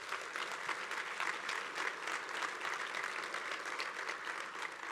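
Audience applause at an Oregon AFL-CIO gathering, a steady wash of many hands clapping at moderate volume, sustained evenly for the whole stretch with no voices over it.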